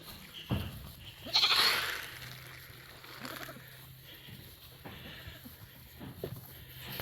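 A goat bleats once, fairly close, followed by quieter farmyard noises and faint rustling.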